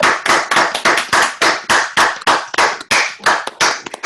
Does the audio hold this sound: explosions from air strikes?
no